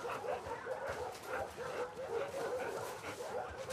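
Dog in The Last of Us Part II giving soft whimpers and short yips in a repeating pattern, fairly quiet and close, with a faint murmur of noise underneath.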